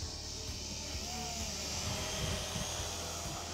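A budget SHRC Mevic Air drone flying at its fastest speed setting gives off a continuous high-pitched whine and whoosh that stays fairly even and somewhat distant throughout.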